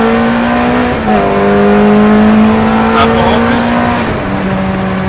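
A Ferrari F430 on a race track accelerates hard, its engine a loud, steady high-pitched howl that rises in pitch, with brief dips at gear changes, heard up close with someone talking over it.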